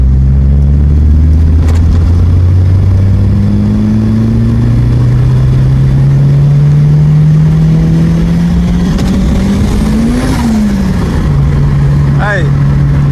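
Turbocharged 217 kW Ford Escort XR3 race car revving hard as it accelerates with wheelspin, its loud engine note climbing steadily and then peaking, with people talking inside the car over the engine.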